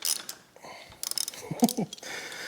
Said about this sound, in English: let's get this front wheel off.